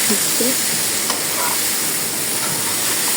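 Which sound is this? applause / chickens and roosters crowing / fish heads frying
fish heads frying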